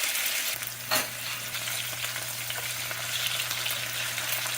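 Grunt fish fry in a pan with a continuous close sizzle and a low steady hum underneath, punctuated by one brief clatter near the start, no voices.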